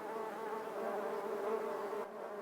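Continuous dense buzzing of many honeybees at a frame hive, a steady hum without pauses, moderately close, with no voices.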